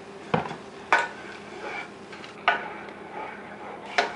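A spoon scraping and knocking through mussel stuffing mixture in a pan, four sharp clanks spaced about a second apart with soft stirring scrapes between them, close and clear with no talk.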